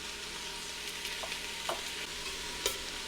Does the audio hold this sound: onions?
yes